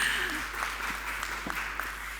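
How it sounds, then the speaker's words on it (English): An audience at a precision medicine forum claps for a speaker in a short burst of applause, moderately loud and fairly even, with a voice briefly audible under it. "We can applaud."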